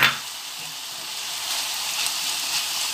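Onion and chicken frying together in a pan, an even hissing sizzle that holds steady from start to finish, close and fairly loud.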